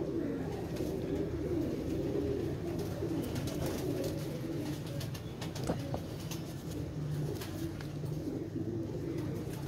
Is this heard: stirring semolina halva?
no